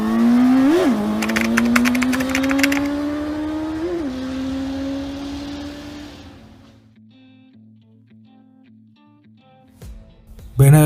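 A Benda LFC 700 Pro motorcycle engine runs loud and close, with two quick throttle blips over a steady drone before it fades out into quiet background music.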